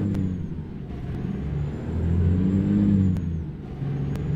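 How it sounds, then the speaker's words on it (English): A steady Scot A2HD truck engine in American Truck Simulator drones and hums at moderate volume, rising slightly in pitch midway as it accelerates, with a synthetic, game-like quality. "I'm enjoying the sound of this engine."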